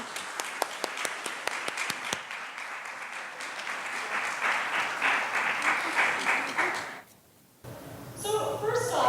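Audience applause at a science, technology and gender congress welcoming a lawyer to the stage: sustained clapping from a crowd for several seconds, fading out before a voice begins speaking.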